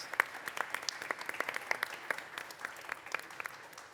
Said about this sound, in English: please give a round of applause to all of our panelists